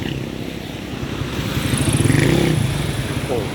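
Suzuki Raider 150 motorcycle with a fault that limits it to about 40 on the straight and leaves it without pull, idling nearby with a rough, throbbing engine that swells briefly in the middle of the clip.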